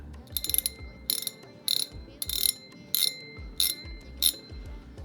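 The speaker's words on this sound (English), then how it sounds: "It's got a kind of a ding bike bell type sound." A tarpon fishing reel's drag spins out in six quick ringing bursts, each a bright metallic clicking ratchet with a bell-like ding, close and loud between short pauses.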